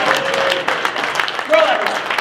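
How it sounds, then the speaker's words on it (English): Audience at an awards dinner applauds, a short burst of clapping mixed with voices and cheers from the room. "Give Merle a huge round of applause."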